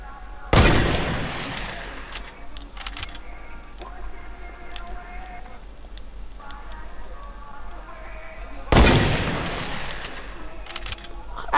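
Two loud, sharp gunshots in the battle royale game Fortnite, one near the start and another about eight seconds later, with quieter game ambience and faint effects in between.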